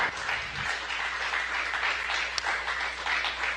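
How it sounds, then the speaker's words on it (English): Applause and clapping fill the room in NASA Mission Control after the Boeing Starliner spacecraft lands, a steady, dense patter of many hands lasting throughout. "May be able to hear some clapping here in the room in Mission Control."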